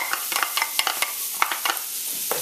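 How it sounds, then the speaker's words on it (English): Chopped onion sizzles in hot vegetable oil in a pan for chicken fried rice, a close bright crackle under quick, repeated spatula scrapes and stirring clicks, with no talking. "what I'm going to do now is toss in the onion"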